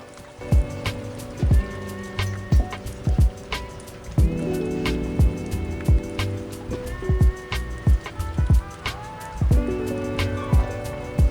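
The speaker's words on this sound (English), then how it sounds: "As you can see, it's starting to rain." Rain starting to fall during a strong early-season downpour, with scattered drops striking a surface in an irregular patter that grows denser, steady background wash between the louder nearby hits.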